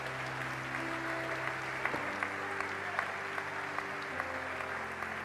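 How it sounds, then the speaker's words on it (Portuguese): Congregation applauding during a church service, a continuous, fairly distant wash of many hands clapping with sustained music tones underneath. "Se você crê, dê um aplauso bem forte ao Senhor."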